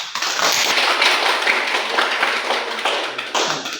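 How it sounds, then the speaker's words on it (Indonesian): A classroom of students claps together after a group finishes presenting its practicum report and poster, a steady dense patter of hands lasting several seconds with a brief lull before a final burst. "Oke, tepuk tangan."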